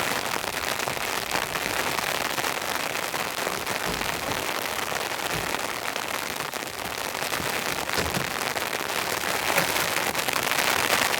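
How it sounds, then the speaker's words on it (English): Cold rain falls steadily on a compact camper van and a tarp, a dense, constant patter with occasional heavier drops, close and uniform throughout, with no talk. "That's actually some pretty cold rain."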